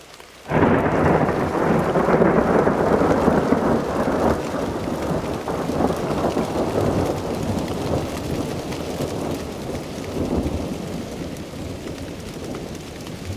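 Thunder rolls through an October snowstorm, a loud, sudden crack that swells into a long, deep rumble and then slowly fades over steady precipitation noise.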